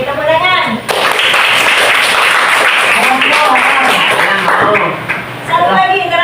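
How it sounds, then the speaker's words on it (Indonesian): A classroom group claps together in a burst of applause, with voices talking and cheering loudly over the clapping throughout. "Oke, tepuk tangan."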